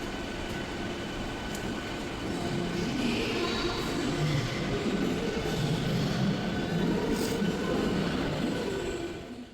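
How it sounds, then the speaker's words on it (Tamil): An electric local EMU train runs steadily between Kanchipuram and Chennai, its rumble and rattle continuous throughout, with faint metallic squeals and clatter rising over the droning carriage noise, heard from inside a coach. "Train ஏறியாச்சு friends."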